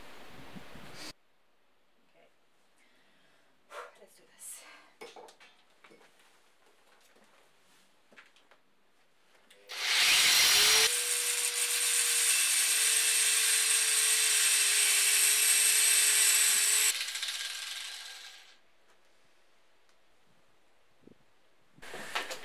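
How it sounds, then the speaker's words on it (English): An angle grinder cuts into metal in one sustained, loud, harsh whine lasting about seven seconds. Quiet handling noises come before it and after it, and the start and finish of the cut are abrupt. "angle grinder in general, just not my favorite power tool, but doing metal angle grinding"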